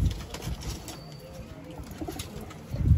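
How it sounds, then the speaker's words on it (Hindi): Soft coos of Kalsare pigeons, including females, repeating under a faint hiss, with a few muffled bumps and rustles, louder thuds near the end. "भाई ये कल्सरी कबूतरी है,"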